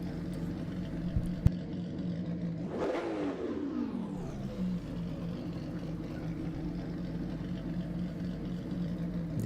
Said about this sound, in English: the sound of these cars are really great.